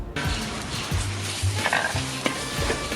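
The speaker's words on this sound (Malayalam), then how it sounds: "ഇപ്പം നമ്മൾ അരച്ച അരപ്പ് ഇതിൻ്റെ അകത്തേക്ക് ഇട്ട് ഒരു 2 മിനിറ്റ് നമുക്ക് ചെറുതായിട്ടൊന്ന് മൂപ്പിച്ചെടുക്കാം" Ground spice paste for a pearlspot fish curry sizzles and fries in a pan while being stirred, a continuous close crackle with occasional scraping of the spoon against the pan and no voices.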